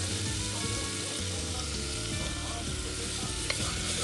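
Onions frying in oil with turmeric and rock salt, a loud, even, continuous sizzle close up with a faint low hum underneath and a small tap near the end, no voices.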